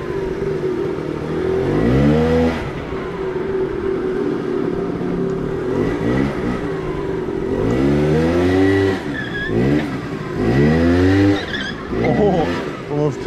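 A 1990 Yamaha Zuma scooter engine revs up and down in repeated rising and falling surges during a wheelie, loud and close, with brief lulls between bursts.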